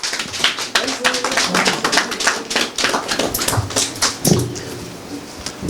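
An audience at a political party gathering in Creil, France applauds for Maman Cathy, with brisk, dense hand clapping that swells and then tapers off, some thumps and voices mixed in.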